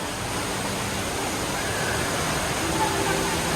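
Indoor waterfall at Jewel Changi Airport in Singapore, water dropping through several layered pools: a steady, broad rushing roar that holds constant throughout, with no distinct voices.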